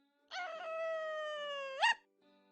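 A dog in a video game lets out a single drawn-out, whining howl that holds steady and then rises sharply at the end before cutting off, clear and close against near silence.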